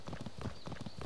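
Footfalls of a Kaprosuchus moving in the video game ARK, sounding like a horse trotting: a quick, regular run of hollow clip-clop beats, fairly close and moderately loud, with no voices.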